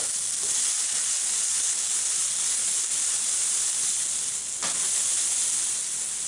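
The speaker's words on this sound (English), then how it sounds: "throw in our red peppers" Red peppers hit a hot pan while cooking green beans almondine, giving a loud, steady, bright hiss of frying that holds level throughout with no voices.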